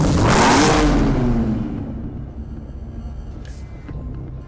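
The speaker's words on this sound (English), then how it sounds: "Powered by Jaguar's 5-liter supercharged V8 engine" Jaguar XKR with a 5-liter supercharged V8 in Need for Speed Hot Pursuit Remastered revs once loudly and close, then the engine note falls away to a low steady idle.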